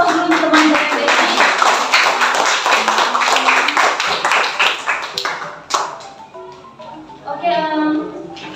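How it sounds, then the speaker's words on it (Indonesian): A classroom of students claps briefly for a classmate's presentation during a practice-teaching lesson. The clapping is dense and close for several seconds, then a teacher's voice speaks over it as it fades. "berikan aplaus dulu untuk teman dari Desi"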